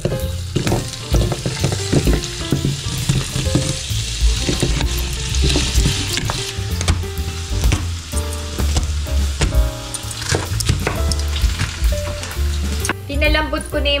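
Carrots and potatoes sizzle and crackle steadily in hot cooking oil, a continuous close frying hiss with occasional stirring clatter throughout.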